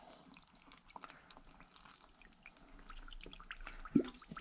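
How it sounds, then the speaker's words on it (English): Water is poured into a rock tumbler barrel as it is topped up, a faint, close trickle with scattered small drips and one brief splash near the end. "Let's add a little water."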